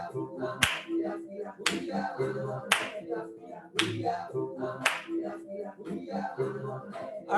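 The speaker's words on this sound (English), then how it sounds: "Let's clap our hands together." Children and adults clap their hands together at a kids' jazz session, a series of sharp, separated claps landing every second or so over a background of talk and music.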